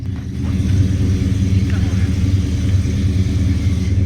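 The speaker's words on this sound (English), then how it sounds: "the Roadrunner is going into somebody else's garage" Low rumbling idle of a Plymouth Roadrunner engine pulling into a garage, a steady close throb with a voice talking over it.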